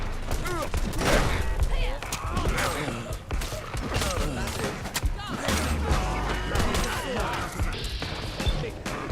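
A grenade blast in the game Fallout London, with dense gunfire and crashing noise throughout and a voice talking over the combat.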